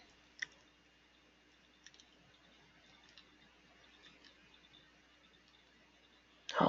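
Sparse, faint clicks and taps from a computer keyboard and mouse in a quiet room, a few isolated strokes spread apart, ending in a sudden louder thump.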